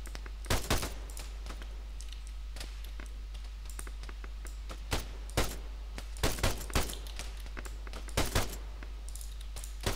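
Gunfire in the Arma 3 video game on Tanoa, a run of sharp single shots and quick bursts at irregular intervals, loud and close, over a low steady hum with no talking.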